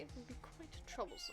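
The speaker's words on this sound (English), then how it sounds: "That was a cat." A cat meows in the courtroom mystery game Ace Attorney, a short bright mew near the end of a line of spoken dialogue.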